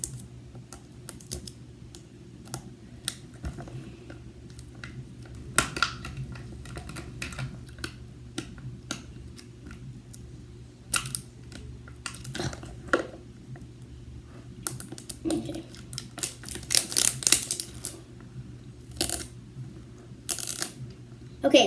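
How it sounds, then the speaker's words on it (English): Crinkly plastic blind-bag packaging of an LOL doll being torn and picked open in a bathroom, a run of sharp crackling rips and rustles at close range over a steady low hum, with some brief talk in between. "I'm probably gonna open my next LOL doll"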